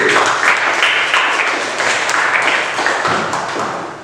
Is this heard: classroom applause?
yes